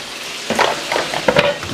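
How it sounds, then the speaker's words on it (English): Chicken and asparagus sizzle in a pan with a crackling hiss, joined by stirring and scraping noises up close. "Hear that sizzling in that pan?"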